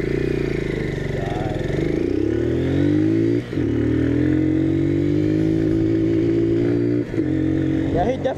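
A motorcycle engine accelerates hard, its pitch climbing steadily, then drops briefly at two gear shifts before revving back up; the engine is loud and close throughout and fills the clip on its own.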